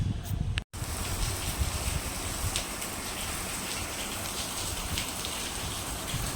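Steady rain falls around a home during a wet spell, a dense even hiss with scattered drop ticks that breaks off for a split second near the start and then carries on unchanged.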